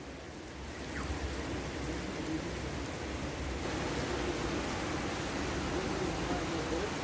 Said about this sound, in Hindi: ये शोर बारिश का है।